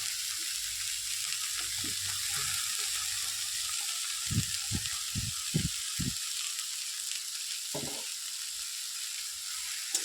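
Greens and previously fried potatoes frying in a pan, a steady close sizzle running throughout, with a few distinct stirring knocks and scrapes in the middle and near the end.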